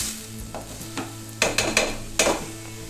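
Vegetables sautéing in a pan with a utensil stirring and scraping, several sharp clacks and bursts of sizzle over a steady low hum.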